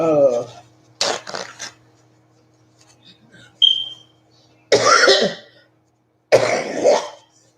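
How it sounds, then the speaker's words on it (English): Someone nearby coughs and clears their throat in a few separate, harsh bursts, spaced out by stretches of near silence. "cough."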